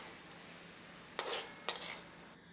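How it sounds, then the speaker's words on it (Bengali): Chicken and spices are mixed in a pot for a village-style chicken curry, giving two short metallic scrapes of a utensil against the pot over quiet background hiss. "এবার মশলা দিয়ে চিকেনটাকে ভালোভাবে মাখিয়ে নেব।"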